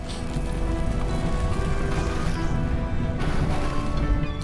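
Steady broadband rush of a waterfall from the video game Child of Light, a continuous even roar of falling water heard alone with no voices.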